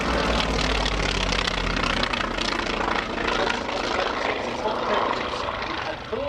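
A Polikarpov I-16 fighter at the Flying Legends airshow at Duxford drones with its radial engine and propeller, a loud, steady throbbing roar that holds for the entire span.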